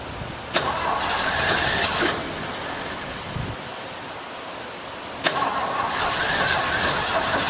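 A 1972 Mercury Montego engine idles roughly with a steady mid-pitched drone, broken by two sharp bursts of revving or cranking, heard close with no talking.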